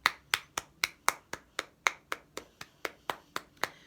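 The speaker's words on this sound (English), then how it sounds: "Can we give our lower juniors a round of applause?" A school assembly audience gives a round of applause for lower junior pupils in Years 3 and 4, heard as a steady run of sharp, evenly spaced claps, fairly faint and with no talk over it.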